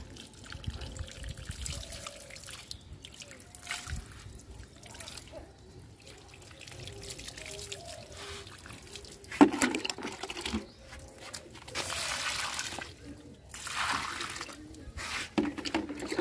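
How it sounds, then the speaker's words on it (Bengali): Water trickles and splashes onto flowering plants in uneven bursts, with pouring and dripping sounds that are fairly quiet, some stretches louder than others. "এখন আমি আমার ফুল গাছে পানি দেব।"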